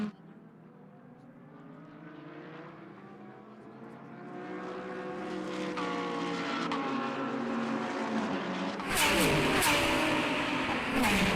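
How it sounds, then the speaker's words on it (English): GT race cars scream past on the front straightaway of a Fanatec GT World Challenge America endurance race at Indianapolis. Engine howl swells over several seconds to a loud, close pass, then a second car bursts by sharply at the end. "Cars screaming by the front straightaway here."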